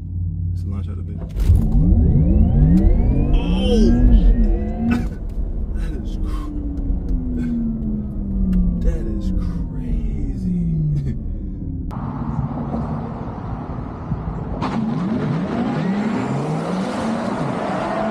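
A Porsche Taycan Turbo electric car launches hard from a standstill in Sports Plus mode, a rising whine and road rumble building over many seconds under a person talking.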